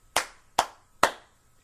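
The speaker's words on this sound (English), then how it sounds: "clapped her hands together very loud" Three sharp, evenly spaced hand claps ring out close and crisp, each with a short decay, with quiet between them.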